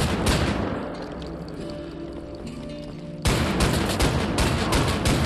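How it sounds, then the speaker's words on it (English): Shrapnel rounds fire in rapid bursts on the Gibraltar Bridge level of the video game Wolfenstein: The New Order, a dense, loud barrage of booming gunshots that grows sharper and heavier partway through. "Let's take out the shrapnel rounds."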